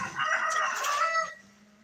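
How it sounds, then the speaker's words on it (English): A rooster crows once, a loud close strained call lasting about a second before trailing off into quiet. "most roosters can crow better than that"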